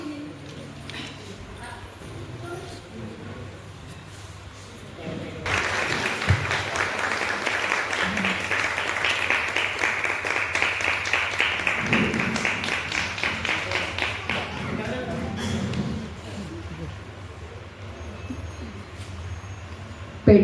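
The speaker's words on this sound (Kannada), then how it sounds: "ಚಪ್ಪಾಳೆ" An audience claps at a Jain temple's great hall inauguration, a sustained burst of applause of about ten seconds that rises abruptly and then tapers off, with a voice talking before and after.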